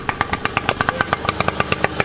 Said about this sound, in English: this guy's got a nice engine.